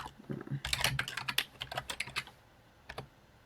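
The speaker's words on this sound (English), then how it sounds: "this one is when you're going to start typing your words" Rapid clicking of computer keyboard keys in quick irregular bursts, close up, trailing off into quiet with a couple of final taps.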